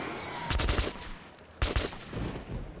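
Two bursts of rapid gunshots ring out in Metro 2033 Redux as creatures attack, each volley a quick cluster of sharp cracks separated by a short pause, fairly quiet overall.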